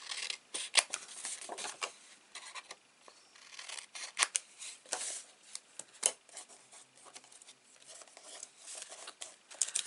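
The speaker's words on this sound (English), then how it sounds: "We can snip off the corners here." Scissors snip the corners off paper for a mini album, a series of quick, crisp cuts close by with a faint rustle of paper between them, and no one speaks.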